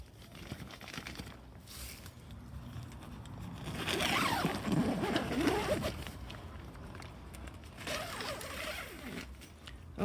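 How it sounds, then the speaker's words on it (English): The zipper on the large D-shaped door of an ALDI Instant Up 6 person tent rasps open nearby in a few uneven pulls amid fabric rustling, fairly quiet overall. "Oh, the sound of a zip."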